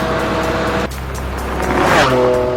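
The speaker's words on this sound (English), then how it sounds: "Ray takes full advantage, pushing his Ferrari to nearly triple the speed limit." Ferrari Enzo driven hard at high speed, its engine roaring loudly and steadily close by, with a rising surge of revs near the end and faint tire noise.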